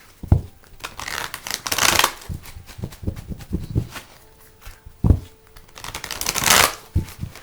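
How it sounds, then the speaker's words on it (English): A deck of cards with a different, harder-to-shuffle card stock is shuffled several times, with bursts of riffling flutter and soft slaps and rustles between them, close and fairly loud. "A little bit of a different card stock, so they're a little more challenging to shuffle"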